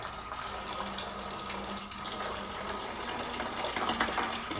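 Water gushes steadily from a faucet on an FA line into a bucket below, a continuous close rushing stream with a faint low hum underneath that holds for the whole stretch.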